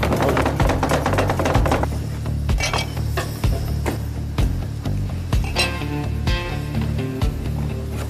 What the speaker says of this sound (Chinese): 两边都在剁肉，好激烈啊